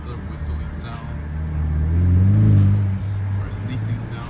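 A Ford EcoBoost Mustang drives at night with a steady close engine rumble that swells in the middle and eases off. A faint turbo whistle may sit over it.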